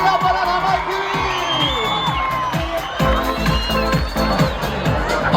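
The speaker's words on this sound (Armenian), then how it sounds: "մեր բարձր ծափարություններ Ապարան համայնքի" Crowd at a graduation ceremony in Aparan cheers and whoops loudly, with shouts and applause throughout and a voice speaking over the noise.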